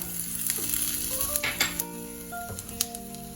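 Cumin seeds sizzling in hot ghee, a bright steady crackle close up with light stirring ticks, no talking.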